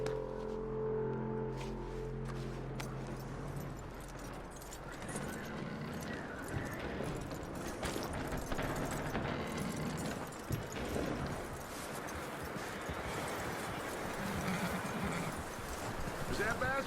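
Horse hooves clip-clop at a steady walking rhythm in Red Dead Redemption 2, close and continuous across the whole stretch, with someone speaking over the start.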